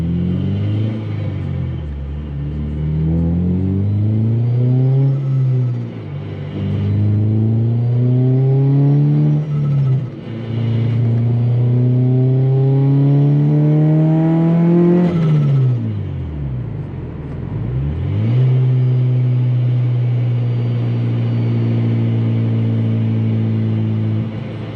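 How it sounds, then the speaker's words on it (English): An 8th gen Honda Civic Si with a Kraftwerks supercharger accelerates through repeated gear pulls, engine pitch climbing and dropping at each shift, with a loud, close, steady rumble and no voices. "this Kraftwerks Supercharger kit is fun. I like the idea of having a supercharged setup."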